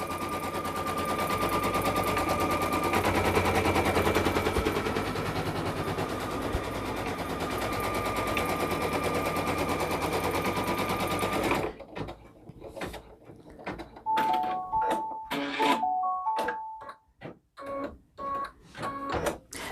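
An embroidery machine stitches a fabric applique patch with a rapid, steady mechanical chatter, then shifts to irregular clicks and short whirring bursts with pauses, close and alone.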